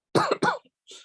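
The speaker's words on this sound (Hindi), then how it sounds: "सॉरी, हाँ थोड़ा सा मैं डिस्टर्ब करूंगा हाँ खांसी से।" A man's dry cough, two close harsh bursts followed by a softer throat-clearing exhale, loud and near, heard during a maths lesson on definite integration.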